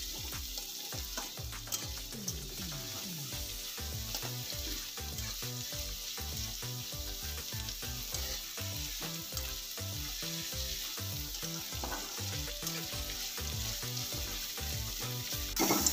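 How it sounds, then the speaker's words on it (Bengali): Onions sizzle and fry in oil in a pan as they brown for an egg bhurji curry, with a continuous crackling hiss and occasional stirring scrapes, close and steady with no talking. "পেঁয়াজটাকে আমি একটু লাল করে ভেজে নেব"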